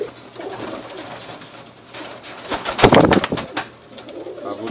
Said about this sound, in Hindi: ये मेरे बांके कबूतर हैं जी